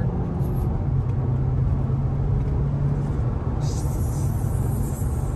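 A Mazda6 accelerates hard, its engine and road noise making a steady, loud, sustained rumble from inside the cabin.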